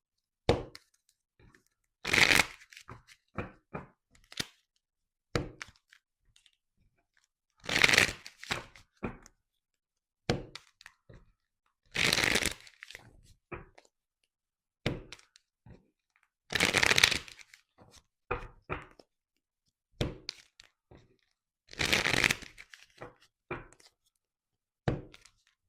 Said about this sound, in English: So now let's take out some cards for you.